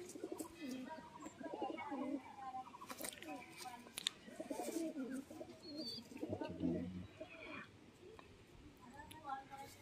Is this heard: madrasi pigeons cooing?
yes